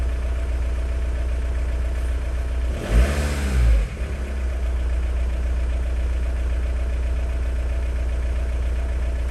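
Volkswagen ALH 1.9L TDI diesel engine in a Mk4 idles with a steady low clatter close by, briefly rising and falling in pitch as it is revved once before settling back to idle.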